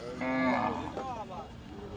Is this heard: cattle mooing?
yes